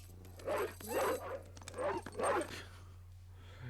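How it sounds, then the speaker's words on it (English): A dog in a 1986 comedy film gives four short barks in two pairs, moderately loud over a low steady hum. "Oh, what an awesome dog."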